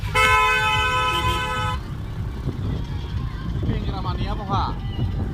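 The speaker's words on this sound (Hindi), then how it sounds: "ट्रैफिक" Road traffic on the way to a picnic spot, opening with a loud sustained car horn blast over engine rumble, followed by steady traffic noise, wind buffeting and people talking.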